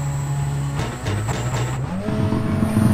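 A rally car in a racing video game, its engine droning steadily while the handbrake is pulled, the pitch shifting and dipping as the car slides, loud and continuous with no talk.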